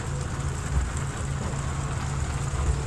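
Heavy rain pours steadily onto a MAN TGA grain truck, a dense, loud hiss of drops drumming on the metal body, with a low rumble underneath and no voices.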